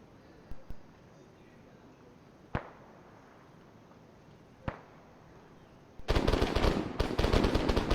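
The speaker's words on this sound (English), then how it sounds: "That sounds like a lot of bullets." Machine gun fire in the Arma 3 military video game: a few sharp, distant shots spaced apart, then a loud sustained burst of rapid automatic fire over the final two seconds.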